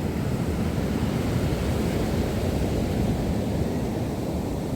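Sea waves after a night storm on an Odesa beach, a loud, continuous rushing surf close by with a steady low roar and no voices.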